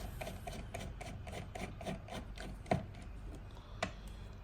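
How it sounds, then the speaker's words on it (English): A T30 Torx driver turns out the steering wheel screws on a Mercedes W22, giving a steady, soft rhythmic rasping and clicking close to the microphone, with a couple of sharper clicks near the end and no talk. "there are three big screws, which we need to use a T30. Okay, T30 to unscrew them."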